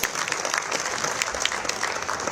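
An audience claps loudly and steadily at a cycling tour presentation in Guadeloupe, dense continuous applause from a crowd with no talking over it.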